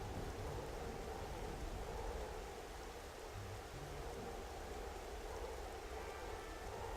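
Steady rain with a low rumble of thunder in the video game Xenoblade Chronicles, a continuous dense hiss held at an even level throughout.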